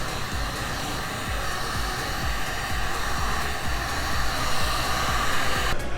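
Heat gun blowing hot air over a car emblem to soften its adhesive, a steady loud broadband whoosh held for about six seconds with no talk.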